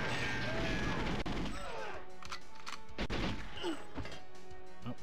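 Gunshots in GoldenEye 64 on the Cradle mission at Secret Agent difficulty: two or three sharp cracks ring out over a busy, steady bed of game sound.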